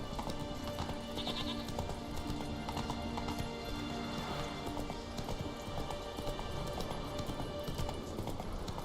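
Roach, a horse in The Witcher 3, gallops in a steady rapid clip-clop of hooves over constant outdoor ambience, with faint background game sounds.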